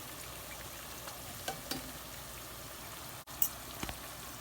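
Tortillas fry in a pan with a steady hissing sizzle, and a few louder pops and crackles break through at close range.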